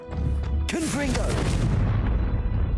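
A Confringo blasting spell detonates in the Hogwarts Legacy video game, a sudden loud boom that rolls into a rumbling tail, with a voice over the blast.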